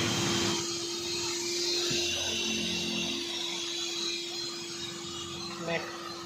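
A steady motorized drone with a constant hum runs throughout, a vacuum cleaner working nearby on a bus, with faint background noise and a brief knock near the end.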